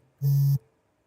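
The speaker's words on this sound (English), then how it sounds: "why is my phone buzzing?" A mobile phone gives one short, steady buzz, about a third of a second long, fairly quiet, alone in a calm room.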